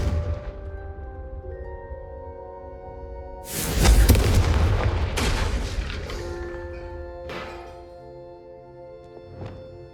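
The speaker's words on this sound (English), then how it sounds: "Confringo, have a go at those candelabras." Confringo fire spell blasts striking candelabras inside Hogwarts in the Hogwarts Legacy game: a loud burst of explosive impacts mid-clip that rings and decays, followed by a couple of smaller crackling hits, no talking.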